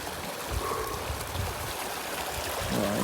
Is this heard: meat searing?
no